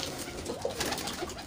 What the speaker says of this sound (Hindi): ये कबूतरी है भाई, देखें